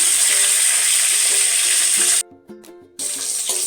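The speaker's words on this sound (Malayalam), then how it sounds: "കുറച്ച് കറിവേപ്പില ആഡ് ചെയ്യാം" Curry leaves crackle and sizzle loudly in hot oil for a crab curry, a dense hiss that cuts out abruptly for a moment and then resumes, with faint stirring clinks underneath.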